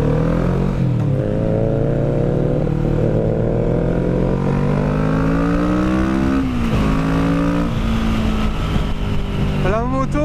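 A motorcycle rides alongside a rally car at the 2020 Béthunois rally, engines droning loudly and continuously with pitch rising and falling through gear changes, plus wind noise and a brief rev near the end.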